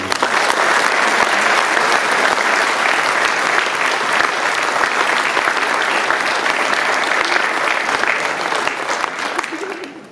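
Loud, dense audience applause at a 2019 New Year's greetings ceremony for the Béziers Méditerranée agglomeration, sustained and even for about ten seconds before fading at the very end.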